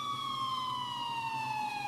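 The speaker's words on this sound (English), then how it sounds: "finally heard sirens in the distance." A steady police siren wails in the distance, its tone sliding slowly downward, with a low rumble of traffic underneath and no voices.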